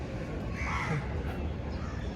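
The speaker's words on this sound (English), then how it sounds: "Look at all these crows, man." Several crows caw at a distance outdoors over a steady hiss of background noise, the calls faint and spread across the moment.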